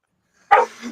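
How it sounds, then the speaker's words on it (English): A single dog bark bursts out sharply at close range, followed by a softer, lower trailing yelp as it fades. "The dog's going crazy."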